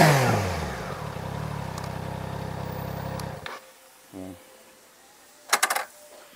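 Triumph Trident 660 motorcycle with an aftermarket exhaust, its engine revving then dropping off abruptly, followed by near silence with brief faint sounds.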